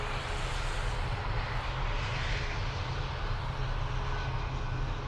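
An ATR 72-600 turboprop airliner at Dublin Airport, a steady broad engine roar that holds at an even, fairly loud level throughout, heard from a distance with no voices.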